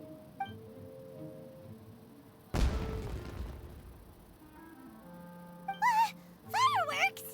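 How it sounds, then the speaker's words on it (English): In Genshin Impact, a single loud firework blast booms and crackles into a fading rumble, followed by whistling, warbling tones and animated game voices. "Huh? Was that an explosion? It sounded like fireworks."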